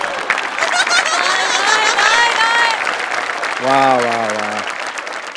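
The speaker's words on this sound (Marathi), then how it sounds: "वा, जोरदार टाळ्या" Loud studio-audience applause on a Marathi comedy stage show, Maharashtrachi Hasyajatra, a dense wash of clapping with a voice exclaiming over it and another brief sustained vocal tone midway.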